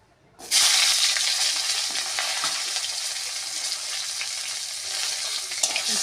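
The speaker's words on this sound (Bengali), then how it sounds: "উচ্ছেটা হালকা করে ভেজে নেব।" Sliced bitter gourd hits hot oil in a kadai and bursts into a loud sizzle that settles into a continuous, close, crackling fry.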